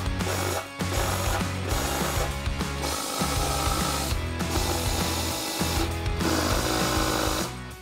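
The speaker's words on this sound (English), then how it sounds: "install our prim nuts with our riv nut tool in these six holes" A riv nut tool sets threaded nuts into the six holes of a skid plate on a Jeep Wrangler Rubicon. It makes loud, steady mechanical ratcheting and cranking that runs almost without a break and close by, with no talking.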